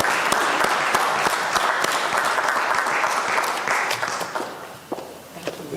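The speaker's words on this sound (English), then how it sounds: "Y'all go ahead and clap Lori back on the stage for me." A crowd at a University of Louisville campus update event applauds warmly as a speaker returns to the stage, dense sustained clapping that fades toward the end with a few scattered claps.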